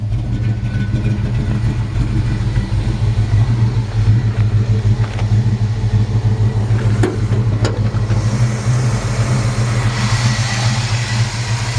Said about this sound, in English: Nice clean sounding engine.